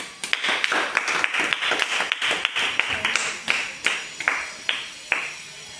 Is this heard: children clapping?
yes